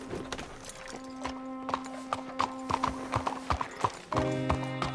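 Horse hooves clip-clopping in Red Dead Redemption 2, in an uneven rhythm, moderately close, with a sustained musical tone beneath and a brief whinny-like sound near the end.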